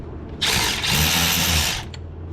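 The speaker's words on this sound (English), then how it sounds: "I'm probably going to get a wrench or a short socket to get to that one." Socket wrench ratcheting on a valve cover bolt of a Toyota 5VZ-FE 3.4-liter V6, a close, loud burst of rapid clicking lasting about a second and a half, alone without talk.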